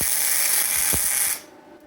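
An AZZUZO 200A multiprocess welder runs at 75 amps, giving a steady, bright crackling hiss for about a second and a half before it cuts off abruptly into quiet.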